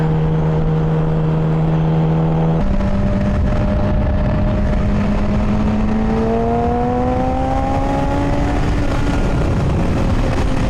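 A Yamaha R6 motorcycle is ridden on roads toward Franklin, PA, its engine droning steadily with rising and falling tones as it shifts and accelerates, with continuous close wind rush.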